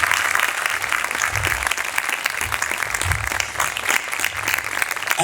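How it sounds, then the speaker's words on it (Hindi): A loud, dense burst of audience applause at a sermon gathering, sustained evenly for several seconds with no speech over it. "इसलिए जोरदार तालियां।"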